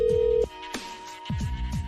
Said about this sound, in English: Her phone is ringing right now